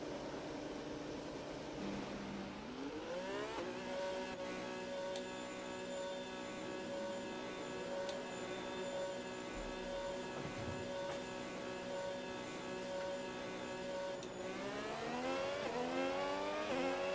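A Formula 1 race car in the F1 26 video game, driven by Hadjar in career mode, heads out onto the track for a dry lap before the rain. Its engine gives a steady, close whine that climbs in pitch near the start and again near the end, with no talk.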